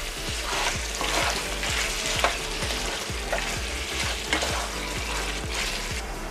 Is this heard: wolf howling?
no